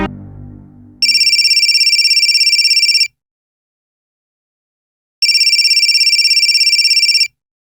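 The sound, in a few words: mobile phone ringing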